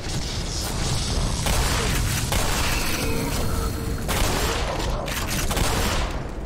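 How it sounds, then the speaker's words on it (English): Dense, continuous gunfire and booming impacts from the Black Mesa video game, with a loud, steady barrage of shots and mechanical clatter lasting throughout, and no speech over it. "They're shooting at us, bud."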